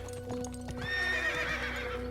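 Video game horse neighs loudly with a long whinny, preceded by several clip-clop hoofbeats, all close and clear over a steady game background hum, with no talking.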